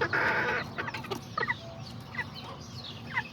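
Azteca and Serama chickens and a rooster cluck in a busy, close chorus, with short rising calls and scattered chirps over steady farmyard background noise.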